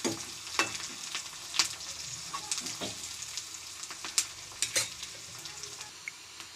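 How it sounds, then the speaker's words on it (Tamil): Onions sautéing in a pan for sambar give a steady close sizzle, broken by irregular scrapes and clicks as a spoon stirs them, with no voices over it. "வெங்காயம் நல்லா வதங்கணும்"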